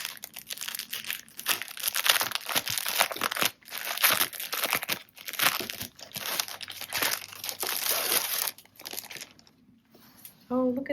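A small mushroom-themed zipper pencil pouch is pulled from its plastic packaging, with steady close crinkling and rustling for most of the clip and a brief pause before a voice is heard at the end.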